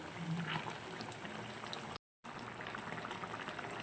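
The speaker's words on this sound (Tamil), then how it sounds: "நல்லா கொதிக்குது குருமா." A pot of vegetable kurma curry bubbles and simmers steadily at close range, a dense soft burbling that continues without voices, briefly cut to silence in the middle.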